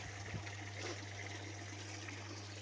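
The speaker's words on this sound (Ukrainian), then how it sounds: "Ось я прийшов набрати курям водички попити" Water runs steadily from a tap or hose while being drawn for chickens, a continuous faint rushing trickle with a low pump hum underneath, close by and with no talking.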